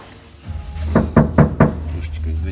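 Bare, untreated metal body panels on a Skoda Octavia are knocked in four quick, close, resonant raps, evenly spaced, with a quiet background.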